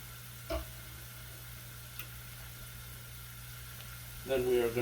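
Chopped onions softly sweating in oil in a pan for stuffed shells with sausage, a faint, steady low sizzle with a light knock near the start and a louder burst of sizzling at the end.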